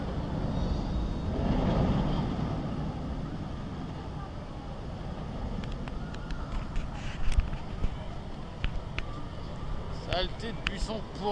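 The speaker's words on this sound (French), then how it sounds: "Voici le deuxième train qui tourne à vide." An empty roller coaster train runs its circuit at Parc Asterix, a broad rumbling roar that swells near the start and fades into distance, heard outdoors under intermittent crowd noise and people talking.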